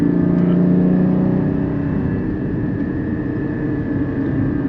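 A Porsche GT3 engine drones steadily and loudly from inside the car, a sustained tonal hum holding a fairly constant pitch and dipping slightly partway through.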